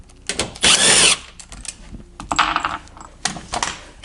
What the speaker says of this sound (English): we take out the 100 screws